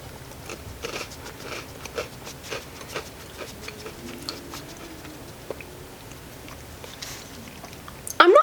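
Close, quiet chewing and crunching of snacks from New Zealand, a steady irregular run of small bites and mouth clicks over a low background, with a louder bump at the very end.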